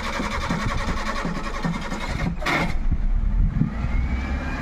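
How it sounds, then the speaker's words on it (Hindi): A car engine running on pure LPG is cranked and catches after repeated accelerator presses, then settles into a steady, fairly loud close-up rumble and idle. "बार बार एक्सीलेटर प्रेस करना पड़ा तब जाके हमारी कार का इंजन स्टार्ट हुआ है।"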